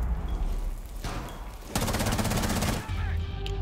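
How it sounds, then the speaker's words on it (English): Gunfire in Rainbow Six Siege aimed at C4, a sharp burst of rapid shots partway through over steady game noise, followed by a dull thump. "Shoot the"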